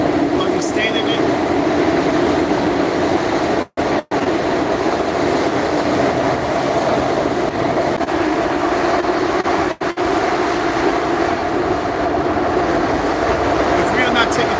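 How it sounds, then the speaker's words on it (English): A loud subway train roars through a tunnel with a continuous rumbling drone and rattling, broken by a few brief gaps. A person talks over the noise. "This train goes in the tunnel, the other train goes in the tunnel, but this train is so much louder."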